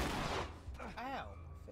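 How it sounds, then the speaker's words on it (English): Shotgun blasts in The Last of Us, a loud burst of gunfire at the start followed by ringing tones and a brief sliding sound as the shots fade. "Shotgun!"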